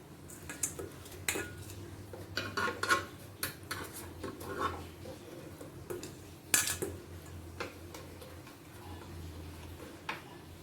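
Light clinks and taps as pieces of fish are placed one by one into an air fryer basket, irregular small metallic knocks with a brief sharper clatter, close up and otherwise quiet.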